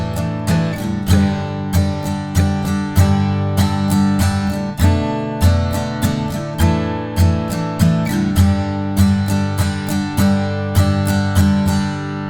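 An acoustic guitar strums a song's chorus chords in a steady rhythmic pattern, bright and full, with regular accented strokes and chord changes and no voices.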